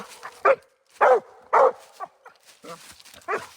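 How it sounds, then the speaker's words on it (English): A dog named May barks at a possum up a tree, several sharp, close barks in an uneven rhythm with short yips and whimpers between them. "Keep barking"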